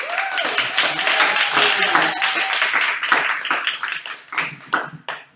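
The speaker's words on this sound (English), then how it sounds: "Anybody have another round of applause?" Audience applause at a comedy show after a performer's set, crowded clapping with a few louder individual claps, thinning toward the end, with voices talking over it.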